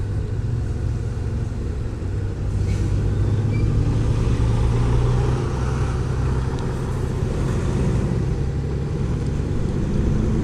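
Steady, smooth engine drone from a 2018 Honda Goldwing DCT motorcycle being ridden, a continuous low hum with wind rush over it, fairly even in level throughout, no voices.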